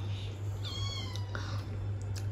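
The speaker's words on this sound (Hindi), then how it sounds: "ये देखो इतनी सूखी बिल्ली है माशाल्लाह, जो मिलता खा लेती है" A thin, underfed cat meows twice in quick succession, a clear nearby call, over a steady low electrical hum in a home.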